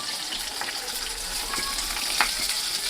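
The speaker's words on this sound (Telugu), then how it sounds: "నౌ ఆనియన్స్ వేస్తున్నా." Onions fry in hot oil with curry leaves and green chillies for chicken fry, producing a dense, constant close sizzle with a few faint stirring scrapes and no talk.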